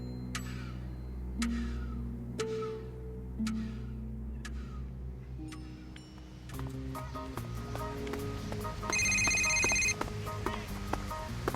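A telephone bell rings in repeated short bursts with pauses between, fairly clear over a low background hum, before other sounds and music take over.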